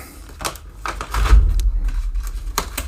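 Scissors cut into a tightly sealed bag of Lavazza Espresso Italiano whole-bean coffee, producing a few sharp crisp snips and crinkles of stiff packaging with a duller thump in the middle, close up and with no voices.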